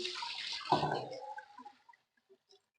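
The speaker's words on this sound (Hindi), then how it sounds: "1 किलोग्राम हम दूध डालेंगे" One kilogram of milk is poured into a pot on the stove, a close liquid splash and gurgle that fades to a few soft drips.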